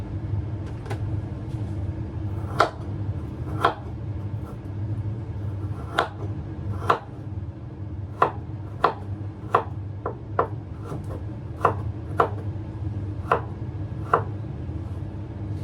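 Knife slicing through onions on a cutting board, sharp irregular taps that quicken into a steady run, heard close over a constant low rumble of vehicle or engine noise.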